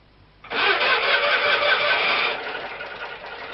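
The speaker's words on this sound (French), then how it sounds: "Ce moteur, ce groupe électrogène, que Jompin a bricolé lui-même" A homemade biogas-fuelled generator engine cranks and catches abruptly, then runs with a steady close rattling drone that settles slightly quieter after a couple of seconds, with no talking.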